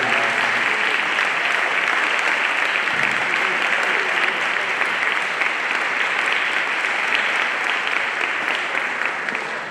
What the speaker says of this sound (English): Let's give them a warm and hand clap for their hard work.